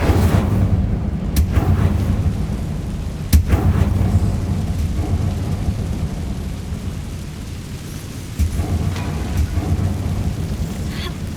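A fire spell erupts in Hogwarts Legacy, a loud, steady roaring rumble that swells and lingers with sharp bursts flaring near the start and again midway, like thunder and crackling flame.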